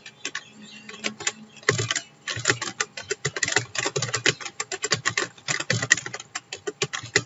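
Fingers tap out irregular bursts of sharp clicks on a computer keyboard, close and clear, with short pauses between runs of keystrokes.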